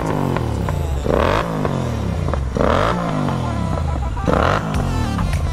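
Aprilia motorcycles in a group ride rev their engines, three loud rising throttle blips at regular intervals over a constant close engine drone, with faint voices underneath.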